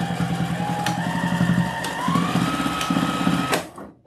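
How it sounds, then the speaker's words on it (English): Sewing machine stitching back and forth over a folded fabric patch for a wreath attachment: a rapid, steady mechanical chatter in short runs with brief pauses and a whirring motor tone, close, then stopping. "And just sew back and forth over it three or four times."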